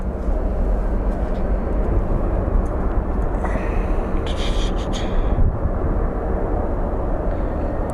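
A Frontier airliner at Phoenix Sky Harbor airport produces a steady, broad engine roar that holds loud and even for several seconds, with no talk over it.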